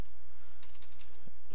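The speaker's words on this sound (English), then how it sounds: "you type in gksu" A computer keyboard being typed on, a short burst of several quick keystrokes close by in an otherwise quiet room, with no one talking.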